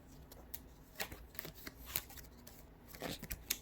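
Tarot cards are shuffled and pulled from the deck, giving quiet papery riffles and a series of soft flicks and snaps at an irregular pace, heard up close with no talking.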